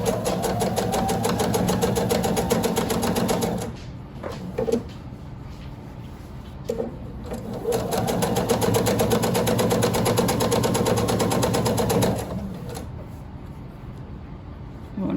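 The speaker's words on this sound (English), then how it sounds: "I'm just going to fold over a little bit at a time and sew." A sewing machine stitches binding onto a quilted placemat, its steady motor whir running in long unbroken bursts with a brief pause in the middle before it resumes.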